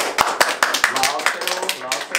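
Applause and scattered claps ring out from a group at a Minecraft virtual reality gaming event with fans, sharp irregular hand claps mixed with people talking over them.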